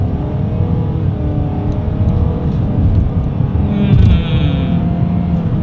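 A 2020 Nissan Sentra accelerates hard along a straightaway, its engine note rising in a steady loud drone heard from inside the car, with the revs climbing before a brief shift-like change near the end.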